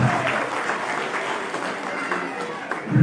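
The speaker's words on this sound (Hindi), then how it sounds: "तालियां बजाते रहे सभी अभिभावक।" Parents applauding at a Kendriya Vidyalaya school annual function in Reckong Peo, Kinnaur, steady moderate clapping from an indoor crowd with a voice speaking over it throughout.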